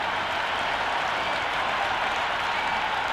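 Stadium crowd at a T20 World Cup cricket match between England and New Zealand, cheering and clapping before the first ball. A dense, steady roar of applause fills the whole stretch at close, even loudness.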